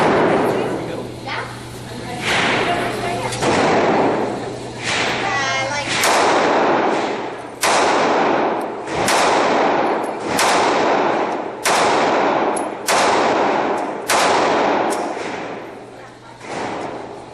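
A Sig P938 9mm pistol is fired at an outdoor range from 14 feet. About ten loud, sharp shots ring out in a steady string roughly a second apart, over a low constant hum.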